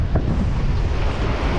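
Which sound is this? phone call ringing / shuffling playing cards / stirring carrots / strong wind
strong wind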